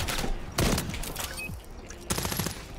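Gunshots in a Call of Duty MW3 Search and Destroy match ring out as a few loud, sharp bursts of rapid fire separated by brief pauses over a short stretch.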